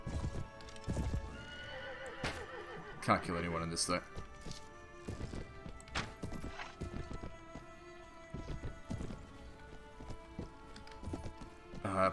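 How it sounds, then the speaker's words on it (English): Hooves of an Arabian horse galloping in Mount & Blade Warband, a fast rhythmic clip-clop with a neigh and some clashing game sounds, while someone talks over the action. "Much better going in on this Arabian horse."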